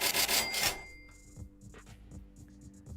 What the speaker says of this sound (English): Put that cash register sound on there.